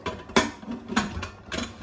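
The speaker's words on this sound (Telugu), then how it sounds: "స్టవ్ వెలిగించుకుని కుక్కర్ మూత పెట్టేసుకుందాం అండి." A pressure cooker lid pushed shut over dal khichdi in a home kitchen, three sharp metallic clunks and ratcheting clicks spaced about half a second apart, close and fairly loud with no voices.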